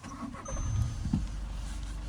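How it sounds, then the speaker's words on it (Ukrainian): The 2.0 TDI diesel engine of a 2018 Volkswagen Passat B8 cranks briefly and catches, settling into a low, steady idle rumble close by. "Зараз запустимо двигун"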